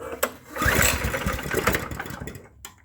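A small engine sputters into life after a choke adjustment, a burst of rapid, uneven putters that rise and then fade, close and fairly loud.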